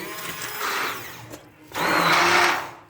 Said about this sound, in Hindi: अब हम इसको कर देते हैं ग्राइंड।